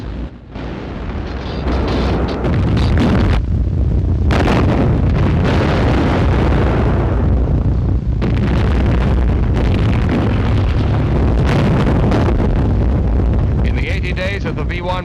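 Anti-aircraft gun battery on the south coast firing amid explosions, a sustained loud roar of blasts and rumbling booms with wind buffeting, continuous through the clip with a brief lull near the start and another around the middle.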